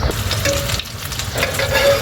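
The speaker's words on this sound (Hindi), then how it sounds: "इसे ये वाली टिक्कियों को फ्राई कर लेते हैं। लाइट सा 2 टेबल स्पून ऑयल," Shami kebab tikkis frying in about two tablespoons of oil in a pan, a loud, close, continuous sizzle with a brief dip midway and no voices.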